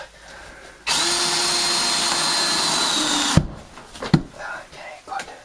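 A power drill drives a screw into wood during a garden tub tear-out, a steady loud whir lasting about two and a half seconds before it stops abruptly, followed by a few sharp knocks and clatters.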